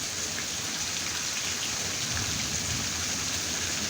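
Cold rain falls steadily at night, a dense, even hiss of drops hitting surfaces with no pauses and no voices.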